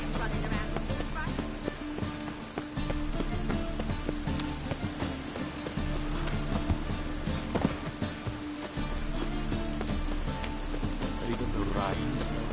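Steady rain falling in a video game, a dense continuous hiss of drops on surfaces that stays loud and even, with faint background sounds underneath.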